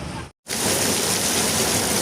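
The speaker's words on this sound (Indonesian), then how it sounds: "hujannya jam segini. Hujan terus" Heavy rain falls steadily at night somewhere around Tangerang Selatan, a dense, close, even hiss that cuts out briefly and then returns at full strength.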